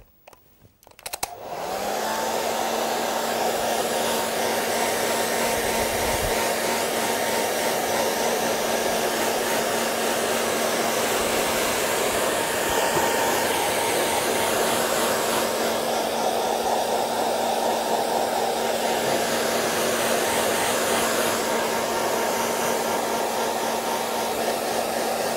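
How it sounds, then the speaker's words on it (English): Hair dryer drying a watercolour painting, switched on after a brief quiet start, then blowing as a loud, steady whooshing hum with a constant motor whine for the rest of the clip. "I'm going to just dry that off and get my second wash onto that part."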